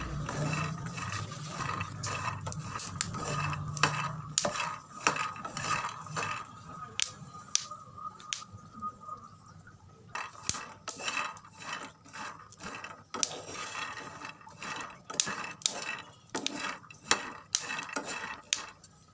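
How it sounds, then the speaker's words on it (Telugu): Peanuts roasting on low heat in a pan give off a dense stream of dry, clicking rattles as they are stirred, with quieter pauses between the busier bursts. "ఇలా సిమ్లో పెట్టి మంచిగా వేపుకోవాలి"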